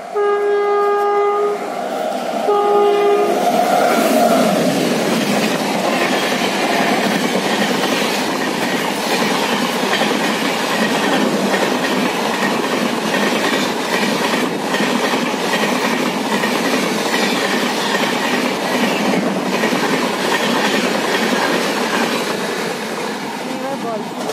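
A train rumbles past close by at a station, loud and continuous, after a brief horn blast at the start, with wheels clattering steadily throughout.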